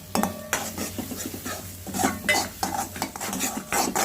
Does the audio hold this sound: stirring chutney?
yes